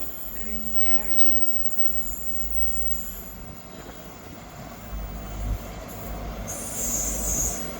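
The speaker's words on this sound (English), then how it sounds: "Arriving in now is the 1545 Scotrail service from Glasgow Queen Street to Aberdeen." ScotRail service from Glasgow Queen Street to Aberdeen, class 43 power car, arriving at Montrose station, heard as a steady low rumble with wheel noise and a brief high squeal near the end.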